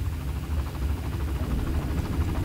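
In the video game Far Cry, a helicopter engine drones with a steady low rumble and rotor throb, continuous and fairly loud with no talk.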